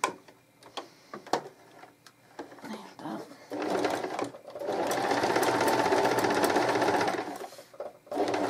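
A sewing machine stitches fabric for a two-fabric lavender sachet, with scattered clicks and handling noises at first, then a sustained run of rapid stitching lasting a few seconds before stopping, followed by a brief restart.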